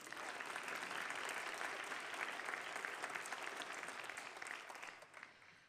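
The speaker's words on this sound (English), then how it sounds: "I think that deserves a round of applause" Audience applause at a school board of trustees meeting, steady clapping from a crowd throughout, tapering off at the end.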